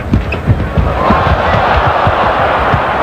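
Arena crowd at the 1989 NBA All-Star Game roaring for Hakeem Olajuwon, a loud, sustained cheer with basketball bounces thumping in the foreground.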